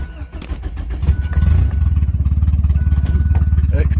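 A motorcycle-style engine fires up and settles into a loud, close, steady rumbling idle with a brief rev, during tuning of an aftermarket DIYPNP ECU.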